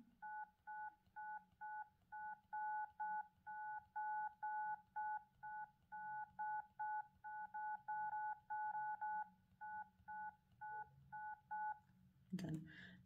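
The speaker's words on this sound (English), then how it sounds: "this time you have to press dial button 15 times" A phone keypad sounds a long run of evenly spaced dial button tones, each beep short and two-toned, repeating in a steady rhythm before a brief knock at the end.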